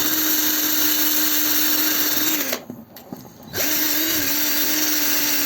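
A power drill with a metal cleaning attachment runs loud and steady on a Znen Tommy 125 scooter's engine casing, dropping out for about a second midway, then whirring back up to full speed.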